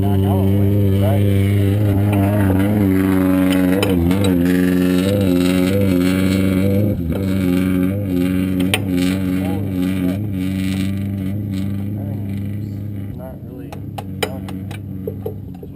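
A Toyota race engine with no exhaust runs loud and raw, a continuous roaring drone with rising revs, while people talk over it nearby at a roadside repair during King of the Hammers.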